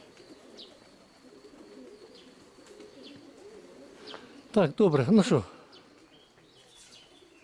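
Pigeons cooing during a quiet outdoor scene, a short burst of soft throaty coos near the middle over low background noise, with a faint chirp or two and a voice briefly speaking.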